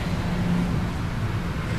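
Road traffic on a route toward Lobo, Batangas during a year-end group ride, a steady low rumble of vehicle engines at moderate distance with no clear single pass-by.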